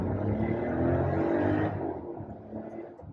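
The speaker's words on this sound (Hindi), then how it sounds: "The car revs all the way up till 1500 RPM." A Kia Sonet launches from a standstill at night, its engine revving up from 1500 RPM, a moderate rising whir that peaks then fades as the car pulls away, with no talk.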